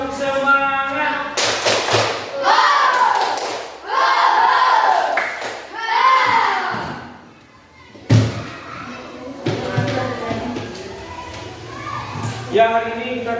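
Students in a classroom clap through a rhythmic ice-breaker, sharp claps in quick patterned bursts alternating with loud group chanting and a teacher's voice, with one heavier thump near the middle.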